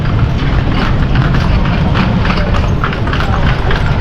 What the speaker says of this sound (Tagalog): Ang laki nung kabayong isa oh.